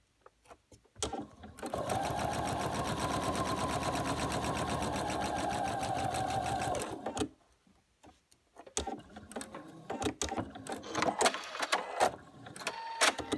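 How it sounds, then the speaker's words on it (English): A sewing machine stitching a quarter-inch quilt seam beside a diagonal line, running steadily and close for about five seconds between quieter handling of fabric and small clicks. "we're gonna go ahead and sew another seam 1/4 inch to the right of this diagonal line"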